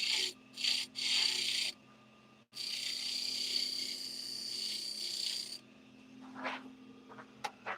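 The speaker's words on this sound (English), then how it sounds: "We're going to sand it and finish it up." Sandpaper is pressed against a spinning wooden piece on a lathe, giving a loud, close, rasping hiss in a few short bursts and then one long continuous stretch, while the lathe hums faintly beneath, ending with a few light taps.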